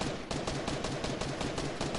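Rapid gunfire from a shooting game on a PS4 crackles in fast repeated bursts, loud and close, each shot a sharp broadband crack in a steady rhythm with no talking.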